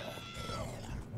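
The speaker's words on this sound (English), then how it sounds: "Oh, look at the cat. That's Schrodinger's cat." A cat meows in the Black Mesa video game, one brief call over a steady game background hum.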